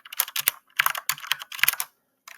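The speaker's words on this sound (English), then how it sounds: "first I'm going to type in the h function" Quick bursts of computer keyboard typing, close and clear, with a short pause near the end before one more keystroke, while a function is entered into Desmos.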